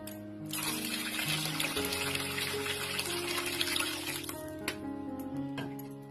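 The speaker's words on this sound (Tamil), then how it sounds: "அப்புறம் நம்ம தேவையான அளவு தண்ணி விட்டுக்கலாம்." Water poured into rasam simmering in a pan for a traditional Tamil pori rasam, a steady splashing pour running for several seconds, close and moderately loud, with a faint hum underneath.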